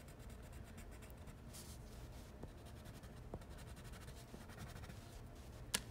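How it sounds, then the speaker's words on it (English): Faint scratchy strokes of a coloring tool filling in a shape on paper, soft continuous rubbing with a few light taps, quiet and close with no talk. "I'm taking my time on this side to color in the whole shape."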